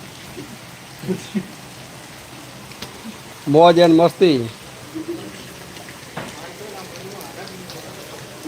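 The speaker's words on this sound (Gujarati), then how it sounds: "પાથાવાડામાં વરસાદ વરસતા ઝરમર વરસાદ શરૂઆત થઈ છે" Light drizzle falls in Panthawada, a soft continuous patter of fine rain with a short burst of a voice speaking partway through.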